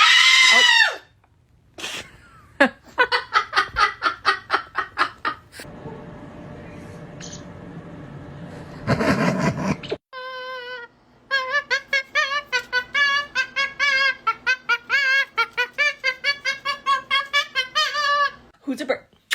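A pet parrot named Angus screams in a corner of the room, shrill repeated loud calls in rapid rhythmic bursts with pauses between, alone without talk, close and piercing.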